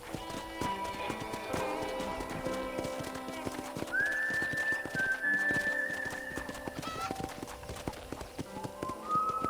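Hooves clip-clop steadily as a horse walks in Red Dead Redemption, close and continuous, with game music and a rising whistle-like tone layered over the rhythmic footfalls.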